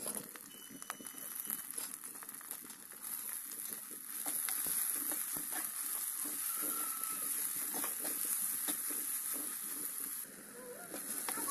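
Chopped onion frying in hot oil in a pan, a continuous close sizzle with crackles that grows louder midway as it cooks, no talking.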